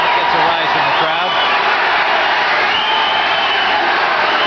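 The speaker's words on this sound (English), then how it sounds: "That gets a rise from the crowd." Boxing arena crowd cheering and roaring in a steady, loud wash of noise, with a commentator talking over it.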